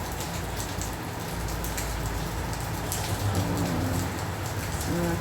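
Steady rain falls and patters on surfaces during a rainy day, a dense continuous hiss with scattered drop impacts and a faint low hum underneath, no talking.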